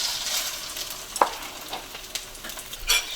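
Shrimp surimi fries in a hot pan with a continuous sizzle, punctuated by a few sharp utensil clicks and brief louder bursts of spattering.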